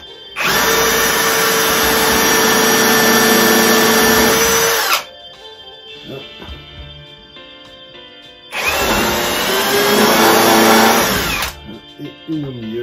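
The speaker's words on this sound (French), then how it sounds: "On va se mettre en mode perceuse." A power drill switched to plain drilling mode bores holes while building a monastery-style wooden bookcase, two loud sustained whirring runs of about four seconds each separated by a quieter pause with workshop noise.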